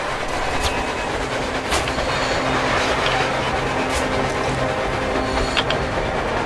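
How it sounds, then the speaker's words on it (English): A train rumbles past steadily in the video game Metro Exodus, with a constant mechanical roar and periodic rhythmic clacks over the whole stretch. "A train! A damn train on the surface!"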